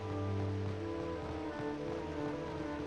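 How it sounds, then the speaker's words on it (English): A giant waterfall in the Dragon Quest X video game gives off a steady, full rush of falling water that holds constant and fairly loud throughout, with a low tonal bed of game music under it. "Look at how cool this giant waterfall is."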